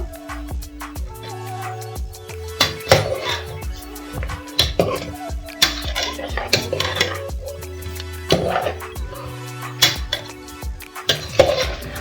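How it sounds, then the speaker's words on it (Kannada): Mutton sukka mixed with curd is stirred in a pan, with irregular clanks and scrapes of a spoon against metal over a soft sizzle, loud and close with pauses between strokes. "ಇದನ್ನ ಚೆನ್ನಾಗಿ ಮಿಕ್ಸ್ ಮಾಡ್ಕೋಬೇಕು"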